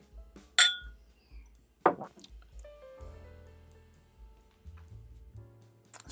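Glasses clink together in a toast during a blind tasting of budget bourbon, with two sharp bright clinks early on, then quieter table clatter and low background sounds.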